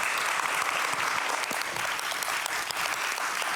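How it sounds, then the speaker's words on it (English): Audience applauding a panel at a World Refugee Day event indoors, sustained, dense clapping at a steady loudness through the whole stretch, with no talk over it. "Can I have a round of applause for this part?"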